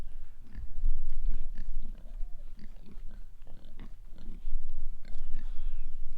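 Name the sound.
pigs on a farm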